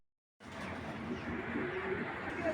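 A racing pigeon coos close by in a loft, a continuous soft burbling murmur that carries on steadily.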